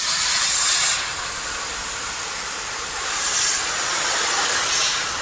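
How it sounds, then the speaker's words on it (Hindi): Gas from a CNG cylinder being emptied for cleaning rushes out through a pipe as a loud, continuous hiss that swells and eases slightly but never stops. "ये गैस खोल दिए, यहाँ से गैस जाके ये पाइप से ऊपर से निकल जाएगा"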